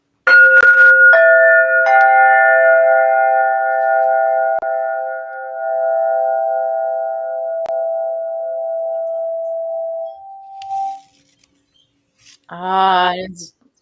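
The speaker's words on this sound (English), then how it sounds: "I will play the crystalline tones to lift us" Sustained crystalline singing tones ring out for a meditation, several overlapping pure pitches swelling and slowly decaying over about eleven seconds, followed by silence and a brief trailing tone at the end.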